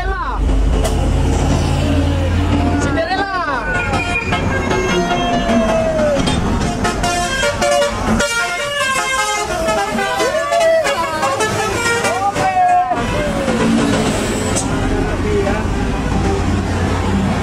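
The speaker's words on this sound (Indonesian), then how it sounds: "Di sana ada 3 unit bus." Heavy road traffic with large Sumatran buses rumbling past, engines droning loudly, a horn toot cutting through, and people chattering over the noise.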